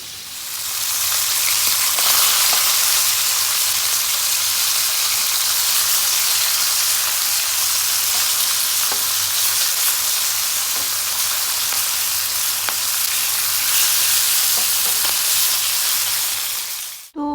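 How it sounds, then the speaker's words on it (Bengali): Fish pieces frying in oil in a home kitchen give a steady, close broadband sizzle and hiss that holds evenly throughout, with no voices and a brief clatter at the very end. "মাছ সব ভাজা হয়ে গেছে"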